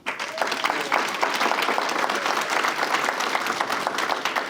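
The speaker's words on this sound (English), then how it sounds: "let's give them a clap, let's give them a hand." A live podcast audience applauds steadily throughout, a dense clatter of many hands clapping at a close, even level with no pauses.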